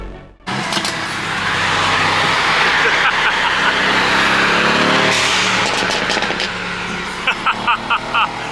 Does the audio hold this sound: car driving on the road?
yes